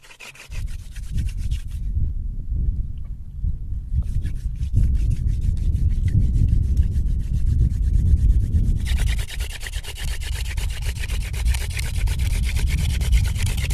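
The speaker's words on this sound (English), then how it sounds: "I've already drilled all the way through the hearthboard." A mule fat stick spins against a wooden hearthboard in a friction fire drill, giving a steady, loud grinding rub. The harsh scraping texture brightens and intensifies in the final seconds.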